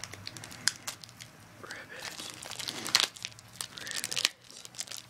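Tape being peeled and torn off a trading card package, close crinkling and ripping bursts with a sharp tear near the end, alongside soft muffled voices.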